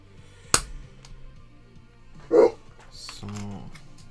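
A dog barks once indoors, a short mid-loud bark after a sharp click, followed by someone speaking nearby.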